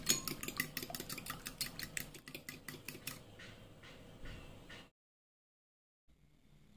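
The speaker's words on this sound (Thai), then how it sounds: "คนส่วนผสมจนผงชูรสละลายเข้ากันดี" A spoon clinks and scrapes against a container as fish sauce and MSG are stirred until dissolved, with rapid rhythmic taps that fade into softer swirling, then silence.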